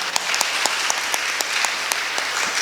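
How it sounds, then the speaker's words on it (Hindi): A church congregation claps to thank God during a sermon, a sustained, fairly loud burst of many hands with sharp individual claps standing out from the steady patter. "जोरदार ताली बजा के एक बार प्रभु का धन्यवाद करें"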